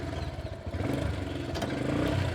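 A motorcycle-pulled cart rolls backward in reverse gear, its mid-pitched engine running steadily with a rattling, clattering drone and a few sharp knocks, close by and with no one talking.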